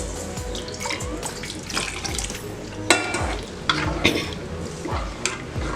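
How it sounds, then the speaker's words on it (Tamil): Water pours into a pot of sambar on the stove, a continuous splashing rush with some clatter and stirring knocks throughout, close and fairly loud. "இப்போ இந்த சாம்பாருக்கு தேவையான அளவுக்கு தண்ணியும் ஊற்றிக்கலாம்."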